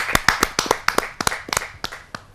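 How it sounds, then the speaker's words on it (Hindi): Applause welcoming a humorous poet at a Hindi poetry gathering (kavi sammelan): a short burst of scattered, uneven hand claps from a few people, close and crisp, thinning out toward the end. "जोरदार तालियों के साथ हम उनका स्वागत करते"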